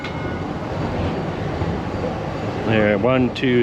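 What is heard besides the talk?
amusement park train rolling on tracks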